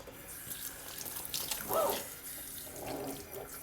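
Tap water runs steadily into a sink while phones are rinsed of Frappuccino, a continuous close splashing rush with brief changes as objects pass under the stream.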